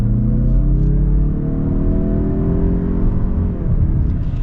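A 2021 Mazda CX-30 Turbo Premium Plus in sport mode accelerates hard to pass, a loud in-cabin engine drone climbing steadily in pitch over road rumble, continuous and without talking.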